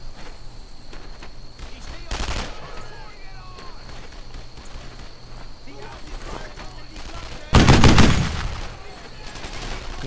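Gunfire in Brothers in Arms: Earned in Blood: a short burst early on, then a louder, heavier volley near the end, over constant battlefield ambience with voices heard.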